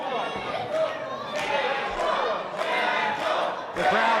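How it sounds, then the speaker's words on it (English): A capacity crowd at a CCW wrestling match chants rhythmically for wrestler Jackal Stevens, loud surges repeating about every second over a busy arena din. "The crowd chanting for Jackal."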